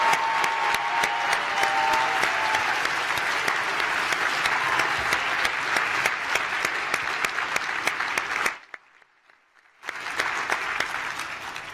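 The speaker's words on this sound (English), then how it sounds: "I'd like the rest of you to join me in a round of applause" A large plenary audience at a J Street conference gives a long, dense round of applause, steady and full, briefly dropping to near silence before resuming.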